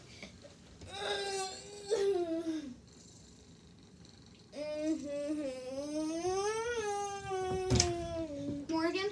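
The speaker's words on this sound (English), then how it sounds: "I heard Sushi meowing to you." A cat meows in a string of drawn-out, wavering cries, close and fairly quiet, with brief pauses between calls and a loud, long final wail.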